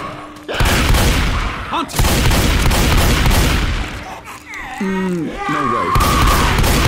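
Shotgun blasts in Left 4 Dead 2, heavy booming shots separated by brief gaps amid chaotic game noise, with people shouting over the gunfire.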